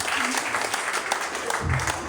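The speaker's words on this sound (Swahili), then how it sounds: "Pigia Yesu makofi." A church congregation applauds, producing a steady wash of close clapping that runs unbroken for about two seconds, with a voice rising briefly near the end.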